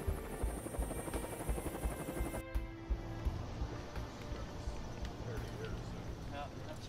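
Marine One, the presidential helicopter, flying from JFK to downtown Manhattan, with a steady pulsing rotor thrum and engine hum that holds loud and close throughout.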